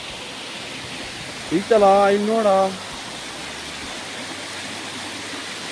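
Waterfall rushing as a steady broadband hiss throughout, with a voice briefly speaking over it near the middle.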